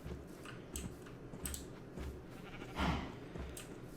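Sheep in the video game A Tiny World give a few soft bleats over a low, steady game ambience, with one louder bleat near the end; no one speaks.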